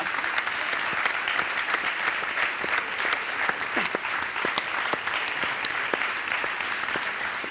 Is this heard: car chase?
no